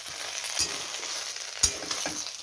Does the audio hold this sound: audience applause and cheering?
no